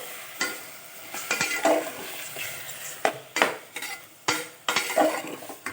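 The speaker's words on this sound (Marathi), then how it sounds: "मशरूम फ्राय करायचं. त्यात कोकम टाकलाय." Wild mushrooms frying with kokum in a pan, stirred with a utensil: steady close sizzle under repeated scraping and clinking strokes against the pan, no voices.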